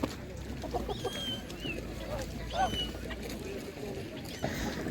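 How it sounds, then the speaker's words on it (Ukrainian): Faint quacks and clucks from ducks and other fowl come and go over a busy, noisy Ukrainian market background with murmuring voices. "Бомбезна велика качка."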